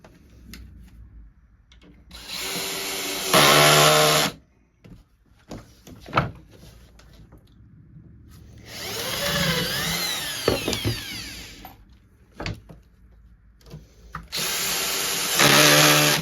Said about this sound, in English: So I'm just going to put the screws in wherever.